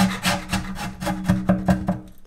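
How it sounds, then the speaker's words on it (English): A chisel cuts into maple while an end graft is shaped for an acoustic guitar, making about eight close, rasping, scraping strokes in a steady rhythm with no talking. "just chisel this part out and then we're gonna get up into the maple."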